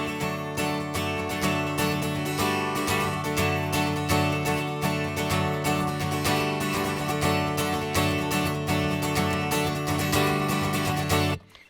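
Acoustic guitar strumming fast sixteenth notes in a worship song. The dense, driving strokes run continuously and loud, then cut off abruptly at the end.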